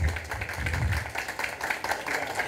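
Audience clapping to welcome a mediator onto the stage at a Portuguese-language panel event, a fairly close, irregular patter of hands rising and dipping in waves.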